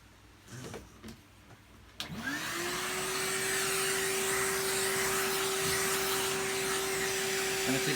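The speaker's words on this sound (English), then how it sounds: "Let's vacuum off some of the crud." A vacuum cleaner switches on after a few faint knocks and runs with a loud, steady whine, sucking crud off the parts of a disassembled Hoover PurePower U3450 upright.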